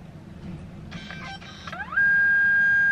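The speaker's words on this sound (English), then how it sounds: "It literally sounds like a printer as well." An instant print camera runs its motorized printing mechanism at a brand event in London, a buzzing whir that starts midway and then settles into a steady, fairly loud mechanical tone heard close up with no talking.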